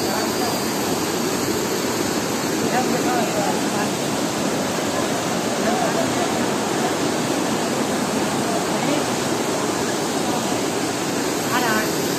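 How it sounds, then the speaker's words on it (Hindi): Namaste Jharna waterfall in Dhankuta, Nepal roars steadily nearby, a dense unbroken rush of falling water filling the whole stretch. "आपको लग रहा है कि हम लोग झरना के काफ़ी करीब हैं।"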